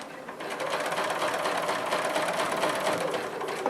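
Sewing machine stitching a quilt in a rapid, steady mechanical chatter that runs continuously at close range, starting just after a brief pause at the beginning.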